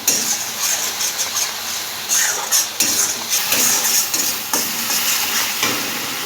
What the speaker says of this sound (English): She will fry this masala till the oil separates from this masala.